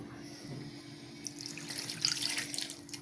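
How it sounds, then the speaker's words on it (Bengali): Water pours into a cooking pot of duck meat, a running, splashing tap-like stream starting after a moment of kitchen hum and continuing steadily, close and moderately loud. "আমি এখানে একটু পানি দিয়ে দিব"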